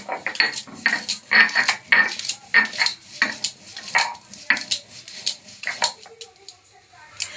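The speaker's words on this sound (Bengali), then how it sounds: "এই ধনের পাতাটা শিলে বেটে নিচ্ছি" Coriander leaves, green chili and cumin are ground on a stone slab, giving repeated scraping, knocking strokes in an uneven rhythm, close and moderately loud, with occasional background noise.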